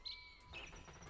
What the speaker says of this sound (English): We hear the birds.